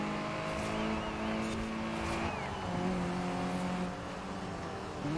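Volkswagen Scirocco driving in the racing game Forza Horizon 4, a steady engine drone whose pitch shifts with gear changes and revving, with faint tyre noise and no voices.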